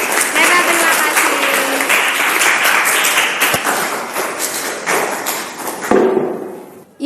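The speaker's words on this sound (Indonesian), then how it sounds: "tepuk tangan untuk dua teman kita" A room full of people applauds steadily, a dense wash of clapping that fades out toward the end, with some voices mixed in.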